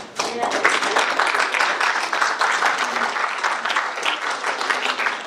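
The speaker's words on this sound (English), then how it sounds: "I think we owe it to them to be able to give a nice round of applause." Conference audience applauding in a plenary session hall, a sustained wash of many hands clapping at moderate loudness, with a few individual claps standing out and faint voices mixed in.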